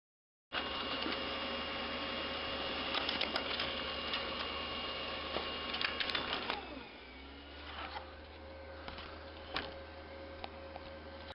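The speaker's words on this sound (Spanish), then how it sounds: "solo queda imprimirlo en una impresora láser" A laser printer printing a circuit track layout onto special paper for etching a printed circuit board runs as a steady mechanical whir and rattle with clicks, then quiets partway into a softer hum.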